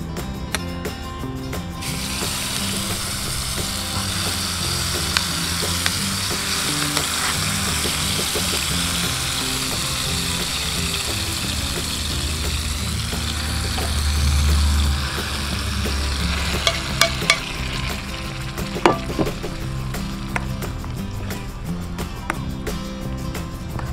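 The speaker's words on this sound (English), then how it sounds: "So we will just let this to cook and stir occasionally." Blended chilies and condiments frying in a medium amount of oil for Indonesian sambal, a steady broad sizzle throughout, with occasional clinks and scrapes of stirring in the pan, close and continuous.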